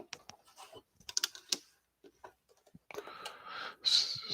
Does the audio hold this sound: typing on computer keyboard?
yes